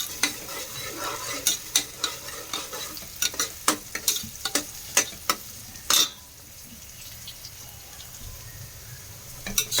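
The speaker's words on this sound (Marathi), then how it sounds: "शिमला मिरची आधी तेलामध्ये तुम्ही भाजून घ्या, परतून घ्या" Capsicum sautés in hot oil for veg pulao, a low sizzle broken by a dozen sharp spatula knocks against the pan, with the stirring pausing and the sizzle settling quieter in the final seconds.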